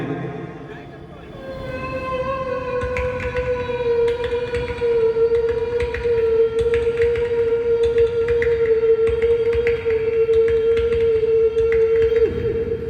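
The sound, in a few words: voice imitating a train siren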